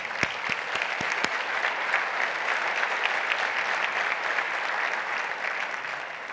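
Audience applause at a Central Houston annual meeting, recognizing a scholarship recipient and a dean: a steady, dense wash of clapping from a crowd, loud and continuous throughout with a few sharp individual claps near the start.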